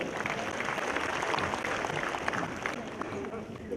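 Applause from a crowd at a political party general assembly, a steady dense patter of many hands clapping with a faint voice underneath.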